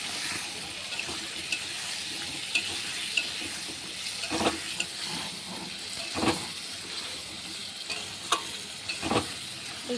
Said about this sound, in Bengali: তো ভালো করে মশলাটা কষাতে হবে, এখনও কষানো হয়নি, আর একটু লাগবে কষাতে।